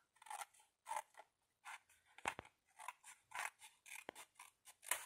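Scissors snip through paper, cutting out two triangles for a model castle roof, in a quick series of close, crisp cuts with short pauses between them.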